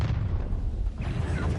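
A Confringo blasting spell goes off in the Hogwarts video game, a dense, loud, roaring explosion that fills the whole moment with rumbling noise.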